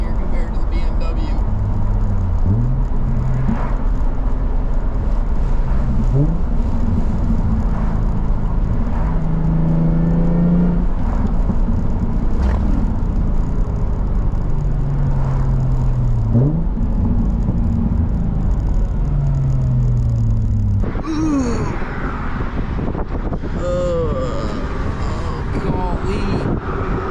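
A Nissan 350Z drives with steady loud engine and wind noise throughout, its revs rising and dropping repeatedly as the gears are shifted by hand, with a sharper change in the sound near the end.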